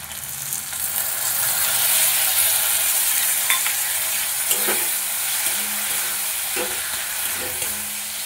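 Spices with green chilies, turmeric, cumin and coriander powder fry in a pan for egg, cauliflower and potato curry, a loud constant sizzle broken by occasional scraping stirs of a spatula.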